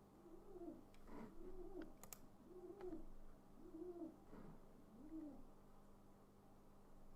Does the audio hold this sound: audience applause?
no